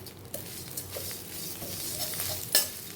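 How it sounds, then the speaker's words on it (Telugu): Curry leaves roast with coarse salt in a pan for karvepaku podi, a soft, steady crackle and sizzle with light stirring scrapes and a brief sharper clatter near the end. "కరివేపాకుతో ఉప్పు కూడా వేగిపోద్దండి"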